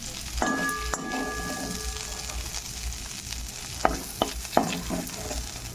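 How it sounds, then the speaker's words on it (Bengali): Prawns fry in oil in a pan, a steady low sizzle under scraping stirs that clack sharply several times near the end, with a brief ringing tone early on. "চিংড়ি মাছটা ভাজা হয়ে গেছে, তুলে নেব"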